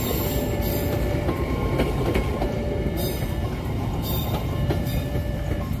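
A KRL commuter train rolls into track 4 of a station, loud and close, with rumbling wheels, rail clatter and brief wheel squeals over a continuous roar, no talk.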